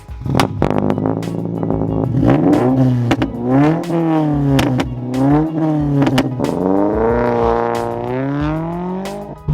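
A loud sports car engine revs hard and repeatedly, its pitch climbing and falling in throaty surges, close and sustained.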